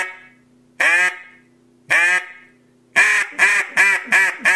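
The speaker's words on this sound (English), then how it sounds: "It's a smooth, relaxed type quack." A Haydel H2 wooden duck call blown in a smooth, relaxed quack: two single loud quacks spaced apart, then a quick run of four close, clear quacks, alone with no talk.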